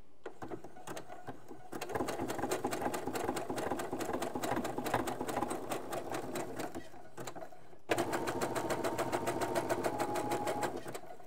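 A sewing machine runs a zigzag stitch along the elastic of menstrual underwear, whirring rapidly and evenly at close range with a brief pause midway and no talk.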